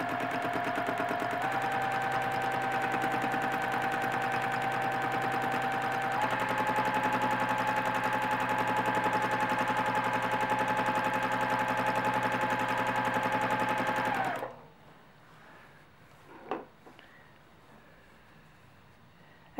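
A sewing machine runs a free-motion quilting stitch with a continuous buzzing hum whose pitch shifts slightly as it goes, then stops abruptly, leaving quiet room noise with a small clunk.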